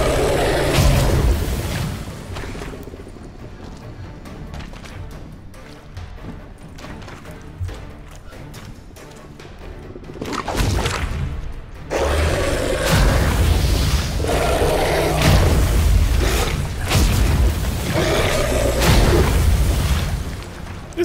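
A poison cloud ignited by a fire spell in The Witcher 3 erupts in a loud, rumbling explosion, followed by sustained roaring bursts and thuds amid combat noise.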